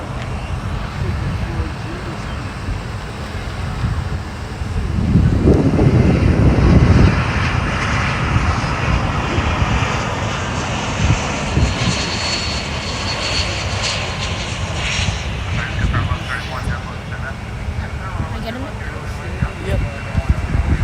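Airbus A320 jet aircraft, about 17 years old, at Fort Lauderdale airport, roaring loudly with a broad swell of engine noise that peaks briefly and then holds as a steady drone under a voice talking.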